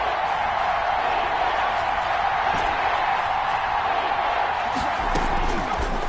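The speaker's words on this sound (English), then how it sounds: "the crowd getting into it as we come up on a big 3rd down" Steady, dense roar of a football stadium crowd cheering ahead of a big third down in a Buccaneers versus Panthers game, continuous and loud throughout with no breaks.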